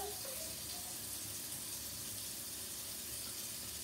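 Water poured from a container into a measuring cup, heard as a steady, continuous splashing stream that runs evenly for a few seconds with no talking.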